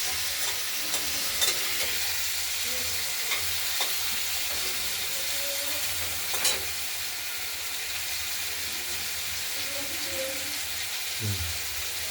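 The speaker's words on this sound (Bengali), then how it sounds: "মশলাটা আমরা দিয়ে দিলাম কষানোর জন্য" Spice paste with turmeric frying in a pan for a rohu fish curry, with a strong steady hiss and sizzle throughout and a few soft utensil taps, close and even.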